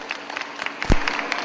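A panel-discussion audience breaks into brief, scattered applause, a short swell of claps over a low room hum, rising to a louder burst near the end.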